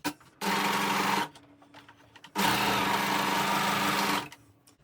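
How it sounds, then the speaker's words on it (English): An overlocker runs in two loud, steady bursts along a raw fabric edge with a short pause between, a fast mechanical whir with a low hum underneath. "I'm just going to overlock this raw edge just to get it looking really professional"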